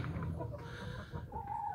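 Chickens cluck and murmur close by in a short, busy stretch, with a higher, drawn-out call near the end.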